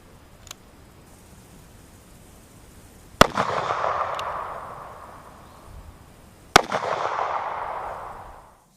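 A handgun firing 125 grain semi-jacketed rounds at a one-inch slab of polyurea outdoors, with two sharp, loud shots several seconds apart, each followed by a long rolling echo that fades away, and no talking.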